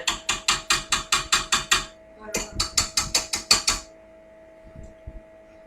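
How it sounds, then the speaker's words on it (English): Rapid regular ratcheting clicks from a stand mixer as the whisk attachment is swapped for the paddle while making a cake, two bursts of about ten sharp metallic clicks each, close, followed by faint handling knocks. "Now we're going to change to the paddle attachment because it had the whisk on it."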